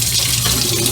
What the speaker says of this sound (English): I turn on the faucet and the cold water on.